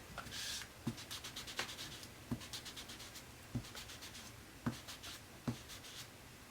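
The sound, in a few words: ink pad pressed onto white paper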